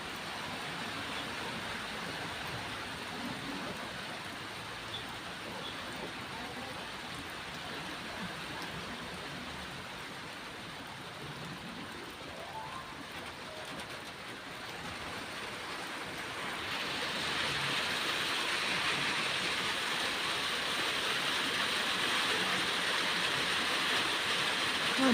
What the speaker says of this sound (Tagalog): Dinig na yung patak ng ulan.